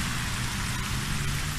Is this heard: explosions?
no